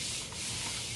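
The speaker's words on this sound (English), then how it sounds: "now I have to start sanding you down again" Sandpaper scrubs steadily across painted bodywork on a model car, one continuous close, gritty rasp with no pauses.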